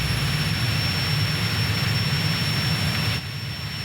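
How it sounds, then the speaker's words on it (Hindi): A cartoon airplane engine roars in a steady, loud jet-like drone with a high whine, then drops slightly in level near the end; no voices. "लखा का ये बेवकूफ विमान मुझे हरा नहीं सकता।"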